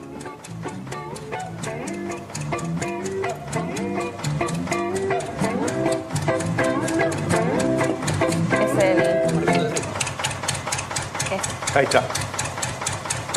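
Idling tractor engine with an uneven, knocking rhythm, used as percussion within a band's music. Instruments and voices play over the repeated mechanical beat, and someone speaks briefly.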